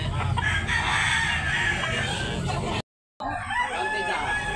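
Roosters crow among the caged gamefowl at a market stall in Tabunok, Talisay, Cebu, loud and close over a steady crowd din, broken by a brief dropout before the noisy background resumes.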